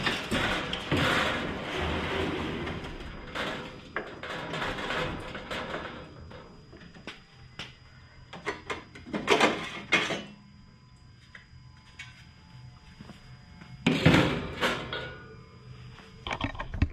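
A PitBoss PB-39P350 pellet smoker being tipped onto its side in a dim carport gives irregular metallic clanks, scrapes and knocks, with louder clusters of impacts near the start, middle and end and quieter handling noise between.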